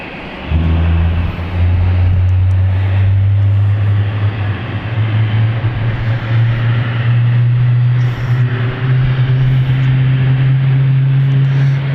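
An aircraft engine rumbles loudly at London City Airport, a deep sustained roar with a steady low drone holding for the whole stretch, with no voices.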